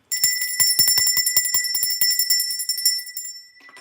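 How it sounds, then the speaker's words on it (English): A small bell struck repeatedly in quick succession, bright ringing tones with sustained high overtones, a rapid irregular series of strikes that rings out and fades near the end, close and clear with no talking. "I want to ring a special bell right now to Miss Viola Graham."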